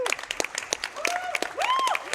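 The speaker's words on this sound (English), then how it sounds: "Big, big applause." Audience applause at a speedrun event, brief bursts of clapping mixed with cheering and voices over a couple of seconds.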